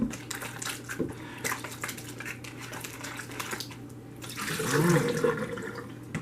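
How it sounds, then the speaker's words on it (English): Running tap water splashes over potatoes being washed in a kitchen sink for vegetable soup, with rubbing and light knocks as they are handled, swelling louder near the end. "Wash our potatoes."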